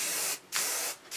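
Aerosol rattle can of paint nearly empty, spraying a final coat in two short hissing bursts separated by a brief pause, close and fairly quiet.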